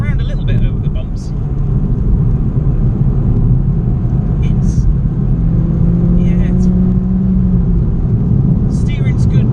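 A 2018 Suzuki Swift Sport drives along a bumpy rural B road, heard from inside as a steady low road and engine rumble with occasional knocks, while someone talks over it.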